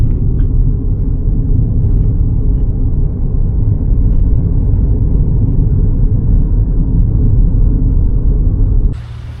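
Car driving on a road, a loud, continuous low rumble of engine and road noise from inside the vehicle, dropping off abruptly near the end.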